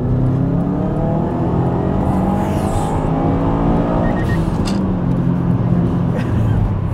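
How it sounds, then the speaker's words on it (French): Subaru WRX STI engine gives a short acceleration, a loud, rising rev from a growling exhaust that swells and then eases off, heard close up from inside the car with no one talking. "Petite accélération"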